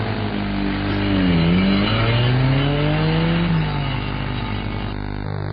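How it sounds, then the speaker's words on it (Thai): A car engine running with sand mixed into its diesel fuel while a crew rocks the vehicle, a loud, close, continuous drone rising and falling in pitch as it revs. "พวกทีมงานช่วยกันเขย่ารถ และจะยังสตาร์ทได้หรือไม่ล่ะ"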